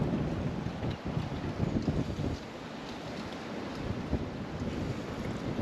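Steady wind roars across an open microphone while riding off-road, a continuous broadband rush with low gusty buffeting throughout and no talking.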